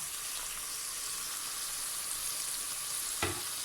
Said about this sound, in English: Now onions and spices are roughly cooked. Now we're going to add the tomatoes in.